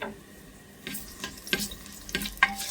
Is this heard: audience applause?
no